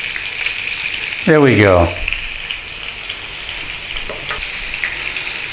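Salmon fillet pan-searing and sizzling steadily in a pan, with a close, continuous hiss and a short spoken remark partway through.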